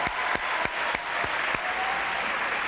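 A French TV studio audience claps in sustained applause, a dense, even wash of hands with a few sharp louder claps at regular intervals, with no talk over it.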